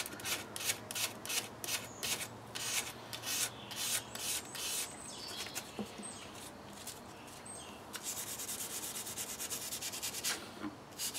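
Surface rust being rubbed off a steel knife blade, a close, steady scraping and rasping in repeated strokes, quiet and dry with short pauses between passes.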